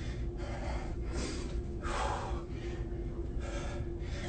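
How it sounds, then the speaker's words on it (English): During a leg strengthening and core workout, a person gasps and breathes heavily in a few deep, loud, close inhales and exhales against a low steady background. "deep, deep, deep breathing."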